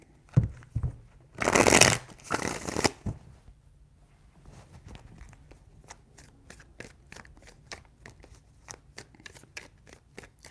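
Tarot cards are shuffled up close: a loud riffling burst followed by a run of crisp, rapid card snaps and flicks ticking at a steady pace, with no talking over them.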